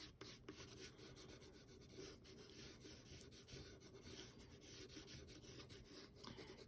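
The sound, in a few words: pencil shading on paper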